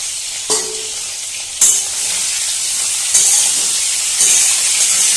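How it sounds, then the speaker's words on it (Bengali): Magur catfish fries in hot oil over a low flame, filling the clip with a steady, loud sizzle and hiss. Several sharp bursts of spitting oil come in short surges, and no one speaks. "তেলটা খুব ভালোভাবে গরম হওয়ার পর গ্যাসের ফ্লেমটা একটু কমিয়ে গ্যাসের ফ্লেম লো করে দিয়ে এটা ভাজতে হবে"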